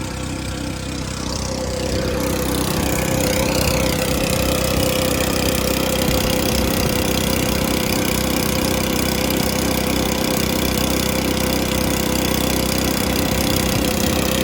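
A ski tow rope motor runs steadily and loud, a small engine idling with a constant mid-pitched hum after a brief start-up swell, no talking over it.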